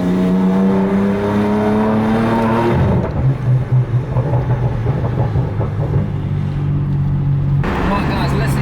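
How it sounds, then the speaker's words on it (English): Loud exhaust note of a BMW M3 F80 fitted with an FI exhaust, booming and rumbling as the car drives through an A14 underpass, with a steady droning tone that shifts partway through. "listen to this exhaust sound through the tunnel here"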